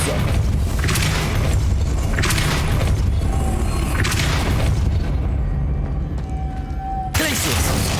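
Repeated spell blasts from the Depulso force spell in Hogwarts Legacy, a PC fantasy game, booming and thudding in bursts over a dense game soundtrack and ambience.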